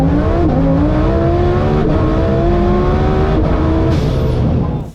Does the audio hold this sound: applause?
no